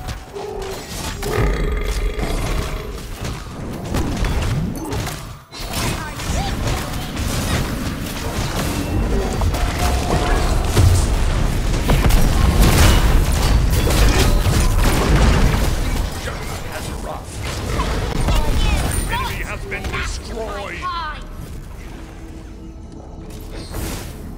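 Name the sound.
explosion in King Arthur siege video game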